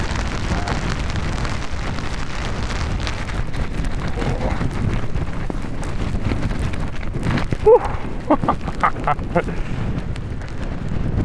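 Steady low wind rumble buffets the mic while backpacking in New Zealand's volcanic country, with footsteps and rustling; a few sharper knocks and clatters come near the end.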